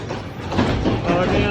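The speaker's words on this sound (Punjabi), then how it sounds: "ਮੇਰੇ ਇਕੱਲੇ ਵਾਸਤੇ ਟ੍ਰੇਨ ਰੁਕ ਰਹੀ ਹੈ।" A train slows to a stop at a small station in Switzerland, with a rumbling rail roar and clickety-clack of the wheels close by, and faint voices mixed in.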